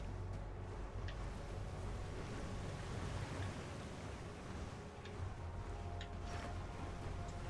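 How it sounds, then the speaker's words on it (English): Massive surging river waves in the monster action game Dawn of the Monsters, a broad, steady roar of rushing water that stays at an even level throughout. "There are massive waves coming your way."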